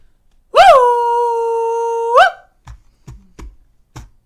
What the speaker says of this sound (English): he's making dog noises